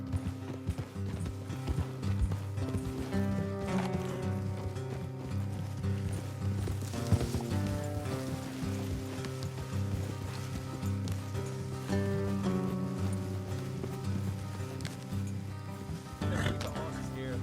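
Horses trot with a steady clip-clop in Red Dead Redemption 2, the hoofbeats running beneath a dense layer of music and game sound for the whole stretch.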